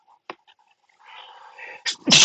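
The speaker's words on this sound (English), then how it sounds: "Man, I need to sneeze here." A sharp sneeze bursts out at the end, loud and close, after a brief intake of breath and some quiet shuffling.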